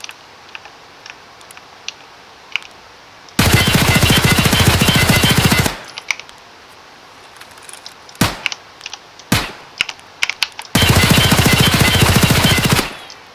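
Two long sustained bursts of automatic rifle fire in the game SPT Tarkov, loud and close, with a few single shots and sharp clicks between them over a quiet background.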